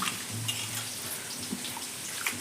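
A hand squeezes and squelches two tomatoes into tamarind water, producing continuous soft wet sloshing and splashing with small bursts, close and moderately loud.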